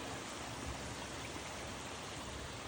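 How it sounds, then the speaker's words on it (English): Creek water pours steadily into a 36-inch corrugated metal pipe beside a weir, a dense, even rushing wash that stays constant and fairly quiet throughout, with no voices. "shot of the amount of water flowing into that 36-inch corrugated metal pipe there"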